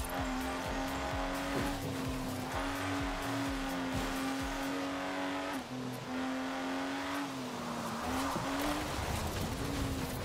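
A car in the Forza Horizon 4 racing game drives steadily with a loud, continuous engine drone that shifts pitch as it revs and accelerates, with brief tire squeals, playing alone throughout.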